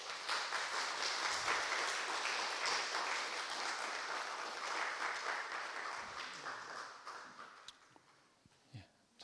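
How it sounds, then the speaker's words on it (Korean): Congregation applause greets a pastor arriving for a Sunday church service dialogue sermon, a dense wash of clapping that stays loud for several seconds, then thins and fades out near the end. "목사님 모실 때 한번 박수로 환영하실까요?"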